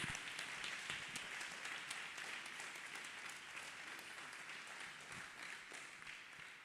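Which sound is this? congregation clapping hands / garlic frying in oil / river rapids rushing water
congregation clapping hands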